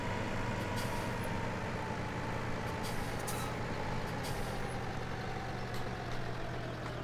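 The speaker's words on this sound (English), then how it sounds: "On the brakes, there we go." A truck in the Farming Simulator 17 game brakes, a steady low engine rumble with short bursts of air-brake hiss breaking through at intervals.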